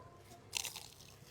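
A single brittle crunch sounds as someone bites into a crunchy fried snack topped with chicharon, brief and quiet, followed by faint chewing with no talk.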